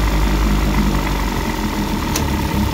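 Outboard-style engine running in a test tank after a carburetor rebuild, warming up and running rich, a loud steady idle hum with constant vibration and one brief sharp click near the end, no talking.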